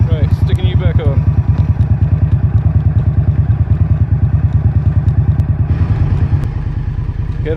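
2023 Indian Scout Bobber motorcycle idling low at about 1100 RPM, a loud, close, steady thumping pulse throughout, with a brief rev or clatter near the start and end.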